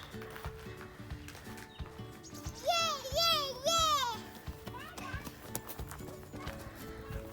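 A horse in a barn gives a loud, wavering whinny close by, repeated in two bursts, with hooves clopping and children's voices in the background.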